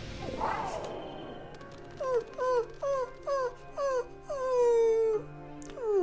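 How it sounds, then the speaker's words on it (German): Several Houndour cry out in the Pokémon Purple video game, a burst of short whining, descending dog-like yelps repeating in quick succession before one longer drawn-out howl. "Oh, da kommen Hunduster. Ganz, ganz viele Hunduster."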